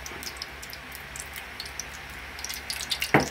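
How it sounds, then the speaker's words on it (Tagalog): Tuna frying in oil in a pan, a steady light sizzle with scattered ticking pops, ending in a sharper clatter near the close. "Gagawin muna natin sa tuna natin, ipiprito natin."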